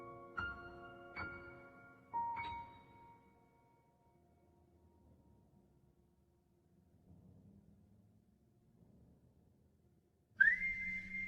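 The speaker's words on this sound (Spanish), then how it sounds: "ese silbido incesante lograron despertarla de aquel sueño profundo" Eerie whistling in a horror story: a few short, clear whistled notes ring out in quick succession, fade into near silence with faint low rumbling, then a sharp rising whistle cuts back in, loud and close.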